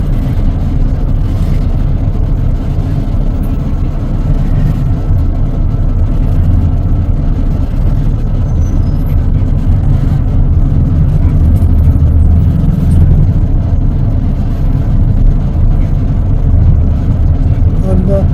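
A city bus rides through Bangkok traffic, its engine rumbling steadily and loudly close by, with a continuous low drone and road noise throughout.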